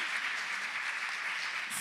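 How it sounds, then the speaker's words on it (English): Sustained applause from a conference audience, a dense wash of many hands clapping at steady moderate loudness throughout, with no speech over it. "Clap for her."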